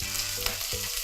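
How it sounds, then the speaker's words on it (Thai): Hot oil sizzles loudly as Thai curry paste is stir-fried in a pan, with a couple of scraping stirs and no talking. "พอน้ำมันเริ่มร้อนนะคะก็ใส่พริกแกงลงไปผัดค่ะ"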